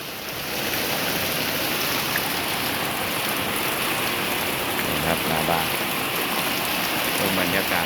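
Heavy rain pouring continuously, a loud, dense hiss of water hitting surfaces with no letup, close and enveloping.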